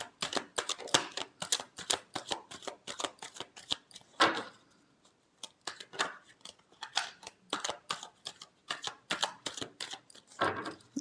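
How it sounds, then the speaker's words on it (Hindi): Tarot cards are shuffled in quick riffling bursts, crisp close flutters and flicks repeating in clusters with short gaps, fairly quiet and without speech. "Last shuffle."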